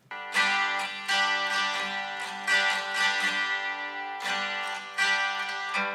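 Two acoustic guitars, a standard one and a high-strung Nashville-tuned one, blended in a mix, strummed chords ringing bright and full in a steady pattern with no voices.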